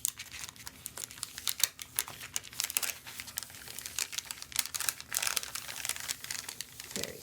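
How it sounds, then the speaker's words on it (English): Paper backing is peeled slowly off a sticky craft sheet, giving a quiet, continuous crackle of crinkling and tearing with many small close-up ticks and rips. "I'm taking off that paper layer."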